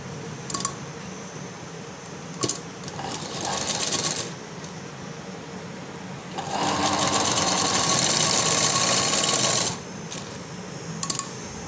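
A sewing machine stitches a floral frock, running in short bursts early on, then in one long steady run of about three seconds near the end, with small clicks between passes.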